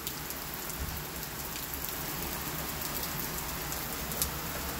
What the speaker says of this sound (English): It's all thundering, and there's like rain happening